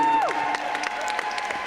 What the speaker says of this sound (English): please put a big round of applause together for both of the fighters in the center of the ring